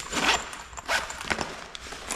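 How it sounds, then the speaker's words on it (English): Zippers on the pockets of a chair being modified for air travel jingle and rattle in quick, repeated bursts with scraping handling noise, loud and close, with no voices. "Boy, these zippers would drive me insane."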